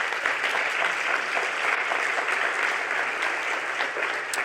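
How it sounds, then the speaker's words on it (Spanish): A church congregation claps steadily and loudly throughout a sermon, a dense, even wash of applause with no break. "Dale un aplauso."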